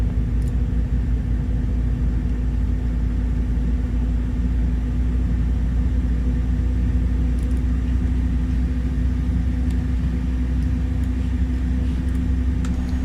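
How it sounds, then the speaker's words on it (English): An Airbus A300 engine starting up in Microsoft Flight Simulator 2024, a steady droning rumble with a constant mechanical hum that holds evenly throughout, with no talk. "Cool, engine 1 sounds good."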